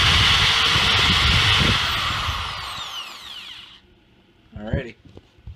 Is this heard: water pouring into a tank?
no